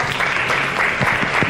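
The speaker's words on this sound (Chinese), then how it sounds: "大掌声鼓励啊" Steady applause from a live audience welcoming guests at the opening of a Milwaukee tool experience center, dense clapping filling the whole moment without a break.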